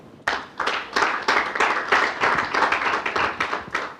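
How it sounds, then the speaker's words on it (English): An audience at an evaluation advocacy event claps steadily for about four seconds, with dense, close hand claps in a brisk, even rhythm and little else heard. "I think Ndahiro deserves a hand clap."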